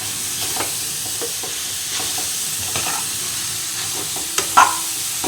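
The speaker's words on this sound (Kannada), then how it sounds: "ಇವಾಗ ಸ್ವಲ್ಪ ಉರಿನ ಜಾಸ್ತಿ ಮಾಡಿಕೊಂಡು ಒಂದೊಳ್ಳೆ ಘಮ ಬರೋ ತನಕ ಕ್ಯಾರೆಟನ್ನು ಚೆನ್ನಾಗಿ ಫ್ರೈ ಮಾಡ್ಕೊಳ್ಳೋಣ." Grated carrot frying over a high flame for carrot halwa, a steady close sizzle with scattered stirring scrapes and a sharper clink near the end.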